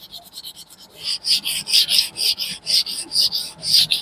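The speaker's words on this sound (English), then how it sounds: "So I'm using a sandpaper here, and I'll be" Sandpaper rubs back and forth against the edge of a clay frame in quick rhythmic strokes, light at first, then louder and steady, with no talking.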